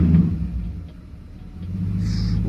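A BMW 540i E39 with an M62 V8 and an upgraded 84mm throttle body idles with a steady low rumble, then gets a brief quick rev that swells and holds near the end.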